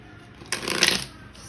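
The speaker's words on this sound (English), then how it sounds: "Oh, I just shuffle when it feels right, you know?" A quick riffle of tarot cards being shuffled, a single crisp burst lasting about half a second, close by.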